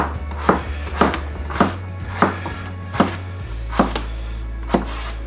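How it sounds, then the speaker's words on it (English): Potatoes for cottage pie are chopped with a knife on a board, seven or so sharp, evenly spaced thuds about a second apart, close and distinct over a low background hum, no talking. "Some people, you know, will cut them like this without even cutting them in half."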